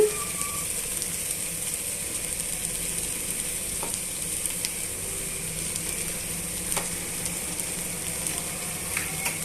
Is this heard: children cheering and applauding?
no